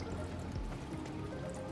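Coolant from a BMW F80 M3 line runs into a funnel, a steady close trickle and pour of liquid with no talk over it.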